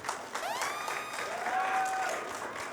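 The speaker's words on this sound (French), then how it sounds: "Est-ce qu'on peut applaudir pour le Mola, s'il vous plaît?" A modest audience applauds at an interview event with steady, fairly soft clapping mixed with a few whistles or cheering voices, continuous through the short stretch.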